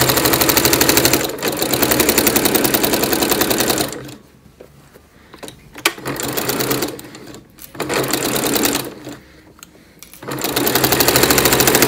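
A sewing machine stitches around a notebook cover made from a cross-stitch piece, running in loud, steady bursts that stop and restart several times, with quiet pauses between runs.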